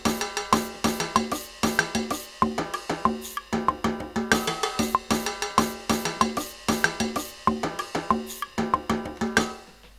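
A drum region in Logic 9 plays back on the 70s kit, a steady groove of sharp, bright hits with a ringing, cowbell-like tone repeating evenly throughout, loud and alone with no voices.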